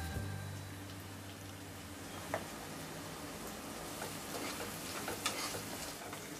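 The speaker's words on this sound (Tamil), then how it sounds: "வெங்காயம் வதங்கட்டும்" Onions sautéing in a pan for a Tamil cauliflower kuzhambu, a steady low sizzle with light stirring and a couple of brief scrapes, close and fairly quiet, no voices.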